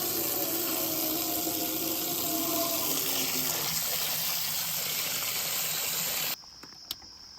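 Hot water runs from an outdoor hot water spigot in a strong, continuous rushing stream, loud and close, then cuts off abruptly near the end, leaving faint knocks.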